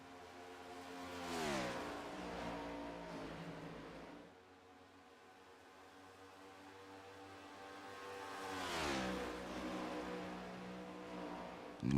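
Race cars in lap traffic at Las Vegas sweep past in two distinct fly-bys, each engine note rising and then dropping in pitch as it passes, with a quieter stretch between them.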